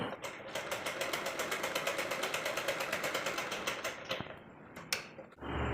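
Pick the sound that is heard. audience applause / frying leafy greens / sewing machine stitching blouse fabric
sewing machine stitching blouse fabric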